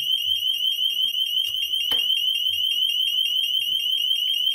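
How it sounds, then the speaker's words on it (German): An Onvis CS1 HomeKit door contact sensor alarm beeps with a loud, piercing high electronic tone repeating steadily throughout, with a brief soft knock in the background. "So, der hat jetzt 10 Sekunden lang gepiepst."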